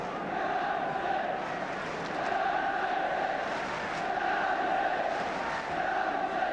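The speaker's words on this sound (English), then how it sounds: "the crowd trying to do their part in bringing about the first goal" A large football crowd at a Tottenham Hotspur First Division match roars and chants steadily in a broad, distant wash of noise, swelling slightly in waves.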